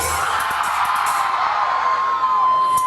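A loud crowd cheers and whoops continuously, with shouts rising over a dense roar and a sustained tone near the end.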